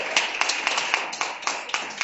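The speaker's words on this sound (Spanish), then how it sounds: "Un aplauso al Rey de Reyes." A church congregation claps in a steady, rhythmic beat, close and fairly loud, with sharp regular claps repeating every quarter second or so.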